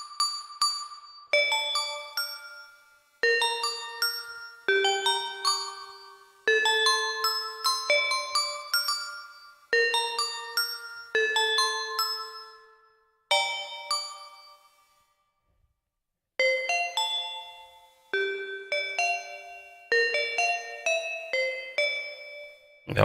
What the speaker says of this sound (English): Just play one of these bell sounds just to give you an idea of how that would sound.